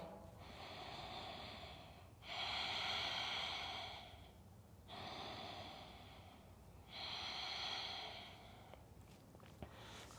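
Slow, deep breathing in a yoga class, four long breaths alternating between softer and louder, hissing phases at a steady, unhurried rhythm, heard close with no talking.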